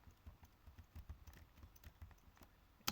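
Quick, uneven keystrokes on a keyboard, close by, a steady patter of clicks ending with a sharper tap.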